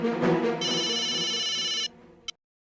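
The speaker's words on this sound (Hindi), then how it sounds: "जी मैं अभी उसे फोन लगाता हूँ। हाँ, पर स्पीकर पे रखना काका।" A telephone rings through speakerphone in an Indian sitcom scene. A steady tonal ring plays for about two seconds, then cuts off, followed by a short final blip.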